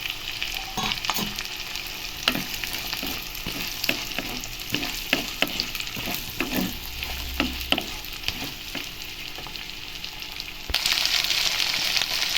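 Cut okra frying in a pan with green chillies and curry leaves, a steady close sizzle broken by repeated scraping stirs, the hiss swelling louder near the end.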